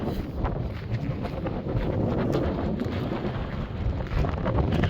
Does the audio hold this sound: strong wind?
yes